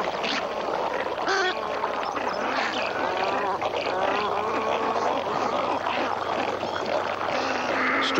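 Magpie geese call in a New Guinea wetland while foraging for aquatic plants, a dense chorus of honking, goose-like calls overlapping continuously, with some other bird voices and a faint narrating voice.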